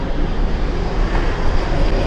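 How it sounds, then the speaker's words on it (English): A big airplane flies low overhead along a flight path, a loud, steady broadband engine roar filling the whole moment with no other sounds. "big plane. We're right in the flight path."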